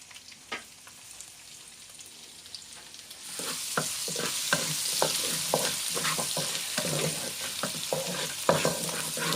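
Plenty of garlic dropped into hot oil in a wok for pad see ew, bursting into a loud, steady sizzle with repeated stirring scrapes and clacks.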